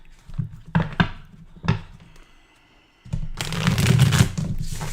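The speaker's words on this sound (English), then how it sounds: "Let me just shuffle the decks here for fire signs." Tarot card decks being shuffled up close: a few soft riffles and taps at first, then a short pause, followed by a longer, louder continuous riffling shuffle.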